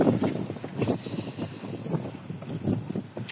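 Gusty wind buffets the microphone over rushing water and sailboat hull noise, a steady roar with surges rising and falling.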